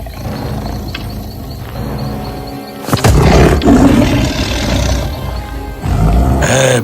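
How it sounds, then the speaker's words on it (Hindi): A tiger growls and roars loudly, deep rumbling bursts repeating close by, growing more intense partway through, in a Hindi children's story narration. "उस औरत ने एक बाघ को गुर्राते सुना"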